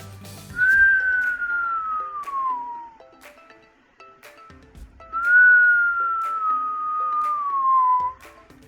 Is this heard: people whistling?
yes